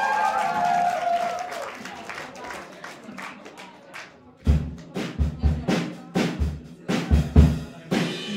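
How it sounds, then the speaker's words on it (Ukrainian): A rock evening crowd claps for a band member, first thin applause under lingering stage sound, then a run of heavy, rhythmic claps with low thumps from around the fourth second onward. "Будь ласка, ваші оплески"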